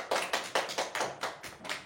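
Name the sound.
classroom applause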